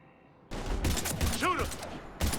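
Gunfire from the video game Mass Effect 3 comes as rapid, loud bursts of shots in two separate volleys, with a brief voice and electronic whine in between.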